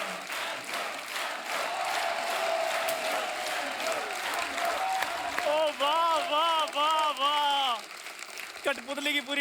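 Studio audience applause at a comedy show, loud sustained clapping from a large crowd, with musical tones and a voice rising over it in the second half.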